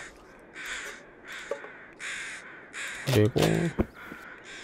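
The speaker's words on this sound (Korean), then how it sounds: "아니 까마귀가 몇 마리야 이씨. 개 시끄러워." Several crows caw over and over in loud, rhythmic bursts close by, while a person talks briefly over them.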